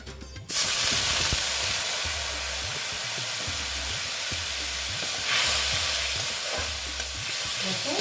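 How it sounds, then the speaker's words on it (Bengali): Spiced pumpkin with a splash of water hisses loudly in a hot pan as it is stirred, a steady sizzle with rhythmic scraping thumps throughout. "জল দিয়ে একটু নেড়ে চেড়ে নিচ্ছে"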